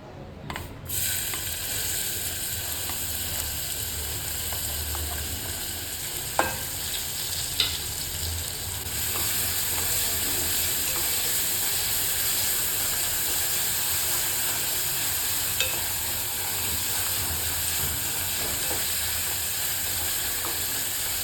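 Finely chopped onion with carom, cumin and coriander powders fries for pav bhaji, a continuous, even sizzle and hiss lasting throughout, broken only by a few faint clicks of stirring.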